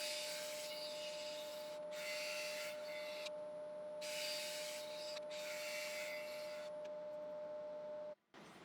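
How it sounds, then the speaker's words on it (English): Applewood piece spinning on a wood lathe being sanded through grits up to 400, several long hissing rubbing passes in steady bursts over a constant motor hum, then an abrupt stop. "I'll show a couple of clips of the sanding."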